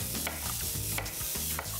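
Chicken pieces fry in a pan with sea salt, no onion, sizzling steadily while being stirred and scraped with a few soft clacks.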